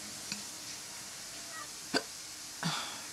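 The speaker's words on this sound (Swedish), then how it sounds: "Och jag hickar och" Several sharp hiccups from one person, three or four short catches spread irregularly through a quiet room, close and fairly soft.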